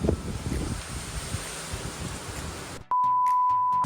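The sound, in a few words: wind blowing outdoors in Pensacola, Florida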